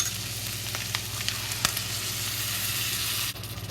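Shredded pork stir-frying in a hot wok with fish flavored sauce, a loud steady sizzle running throughout with occasional clinks and scrapes of stirring, close and alone.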